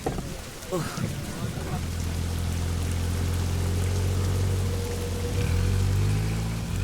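Steady, heavy rain hisses throughout, with a low rumble of a passing vehicle underneath and a brief burst of noise near the start.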